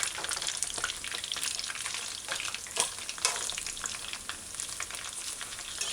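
Fish chunks frying in oil in a pot on a stove set to medium-low, a continuous loud sizzle and crackle with occasional stirring bumps, no voices.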